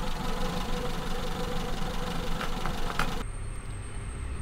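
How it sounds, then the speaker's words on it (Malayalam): A Maruti Zen car with a carburetor engine idles steadily while warming up after a home service, a low, even rumble with a slight knock, heard close, with a brief click partway through. "നമുക്ക് കുറച്ച് നേരം എഞ്ചിൻ ഐഡ്ലിംഗിൽ നിർത്താം, എഞ്ചിൻ ഒന്ന് ഓപ്പറേറ്റിംഗ് ടെമ്പറേച്ചർ എത്തുന്നത് വരെ"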